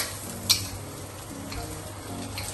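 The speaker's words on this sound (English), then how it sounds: "we are somehow quite done with frying the long bean" Long beans frying in oil for sambal goreng, a soft steady sizzle with occasional light stirring scrapes and one sharp utensil tap, close and fairly quiet.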